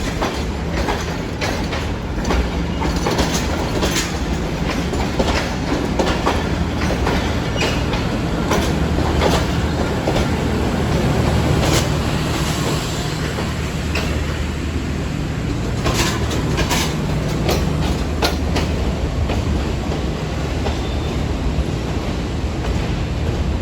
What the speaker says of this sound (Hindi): अब इस्लामाबाद एक्सप्रेस लाहौर से निकल रही है टूवर्ड्स रावलपिंडी